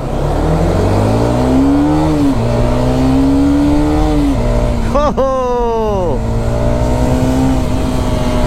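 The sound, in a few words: motorcycle engine while riding, Hero Karizma 210 or Bajaj N250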